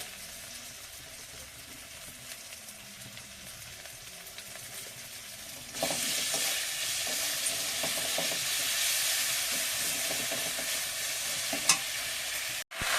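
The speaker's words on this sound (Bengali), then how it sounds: "দিয়ে মশলাটা একটু কষিয়ে নেব" Spices with salt and ginger-garlic paste frying in a pan while being stirred, heard as a soft sizzle that jumps to a louder, steady hiss partway through, close up with no talking.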